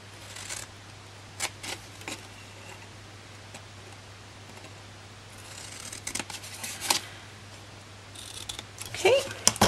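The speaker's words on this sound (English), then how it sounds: "I'm just going to snip up each of these" Scissors make a few short, sparse snips through card while a treat box is cut, each clip sharp and close over a steady low hum.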